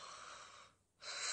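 Someone snores in a single long rasping breath with a brief pause and then another noisy intake, close and quiet with no talk.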